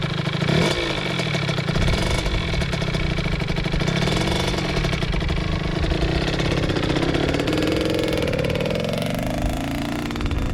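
A Kawasaki KX100 dirt bike engine runs steadily in first gear, a loud, continuous mid-pitched drone with engine clatter that rises in pitch toward the end as the bike pulls away.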